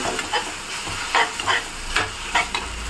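Tomatoes frying in a pan while a spoon stirs and mashes them: a steady close sizzle broken by rhythmic scraping strokes every half second or so.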